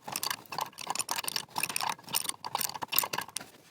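Ring spanner ratcheting on a bolt beneath a 1967 Jaguar E-Type during an independent rear suspension brake rebuild, a quick series of close metallic clicks and scrapes in short bursts with brief pauses between them.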